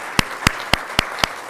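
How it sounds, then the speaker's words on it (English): At a church service, a few slow, evenly spaced hand claps ring out, about six distinct claps in under two seconds, sounding close and isolated rather than a full congregation. "let us welcome you with a little round of applause"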